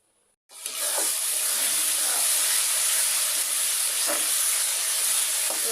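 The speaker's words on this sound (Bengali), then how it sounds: "আমার বৌমার জন্য আমি ছয় পিস মাছ ভাজছি" Six pieces of fish frying in a pan, a loud, steady hiss of sizzling oil that starts abruptly and carries on without a break, close and dense.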